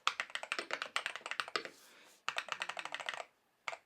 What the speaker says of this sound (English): let's go ahead and press a couple buttons here